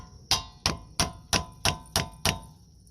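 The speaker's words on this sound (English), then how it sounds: "You take a screwdriver and you shove it between the brake pad and the rotor." A heavy-duty screwdriver is jammed between the brake pad and rotor of a 2016 Chrysler Town and Country front brake. Seven sharp metallic taps come at a steady, even rhythm, close and distinct, with no talking.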